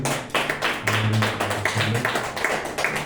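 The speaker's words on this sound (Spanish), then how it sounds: "Vamos a darle un fuerte aplauso al Señor." Scattered, fairly close hand claps from a church congregation praising the Lord during a Sunday service, uneven bursts of clapping with a low sustained tone underneath.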